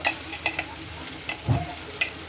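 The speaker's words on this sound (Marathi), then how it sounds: "आता त्याच्यामध्ये ही साबुदाणे घालते" Sago pearls added to soft cooked potatoes in a pan give a light sizzle with a few scraping stirs and soft pattering clicks, close and fairly quiet.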